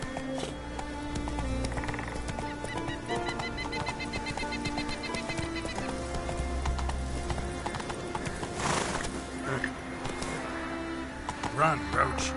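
Hooves of Roach, the horse in The Witcher 3, beat a quick galloping clip-clop under game music and ambience, with a brief snort or whinny and a voice speaking.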